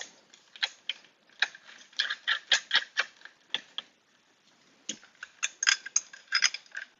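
Locking nuts being fitted and threaded onto a YardWorks garden shredder during assembly, heard up close as irregular bursts of small metallic clicks and rattles with short quiet pauses between them, and no talking.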